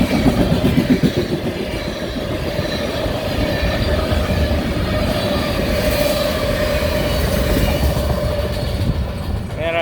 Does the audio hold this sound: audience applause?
no